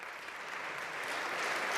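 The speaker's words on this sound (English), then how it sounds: "we should all clap for our firefighters" An audience at the Pennsylvania governor's first budget address applauds for firefighters, a dense, steady wash of clapping from a large room that swells slightly toward the end.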